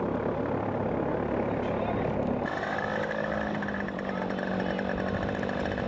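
A scale model aircraft engine runs on its first flight at a scale aircraft show, a loud steady buzzing drone that shifts pitch partway through. The noise is constant, close and fills the whole stretch, with no clear talk over it.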